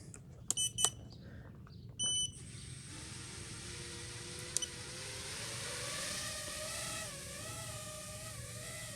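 A small brushless drone on iFlight Xing Nano 1206 4500kv motors gives a few short electronic arming beeps, then spins up into a thin, rising motor whine whose pitch wavers with throttle as it flies in line of sight, steady and moderately close.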